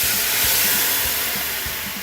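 Lemon and lime juice poured into a hot pan while cooking shrimp, giving a loud, steady steaming hiss that fades slightly over two seconds, with no voices.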